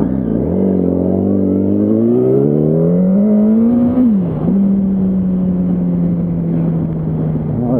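A Yamaha R1 motorcycle ridden through Beverly Hills, Los Angeles, its engine climbing steadily in pitch under acceleration, dipping briefly as it shifts gear, then holding a loud, steady drone close to the listener.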